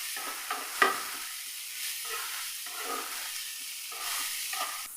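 A salted mixture sautés in a pan, heard as a quiet, even sizzle with a few soft stirring strokes and a small clink near the start, and no talking.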